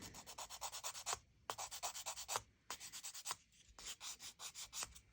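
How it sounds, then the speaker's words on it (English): Rhythmic scratchy rubbing strokes in quick repeated runs, with short pauses between them, like a sanding sponge worked back and forth over an AMT Corvette ZR1 model kit. "Very nice sanding sponges"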